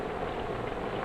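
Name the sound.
rain falling on garden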